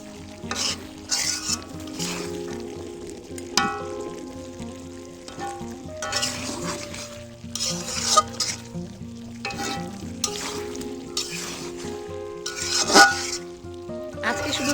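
Spicy local chicken curry sizzles steadily in a pan as a spoon stirs and scrapes in irregular bursts, close and fairly quiet, with no talking.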